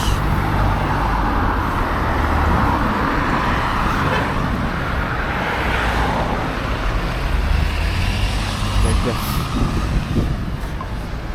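Cars pass on a road near Sarajevo Airport, a steady traffic rumble with swells as vehicles go by, heard under people talking.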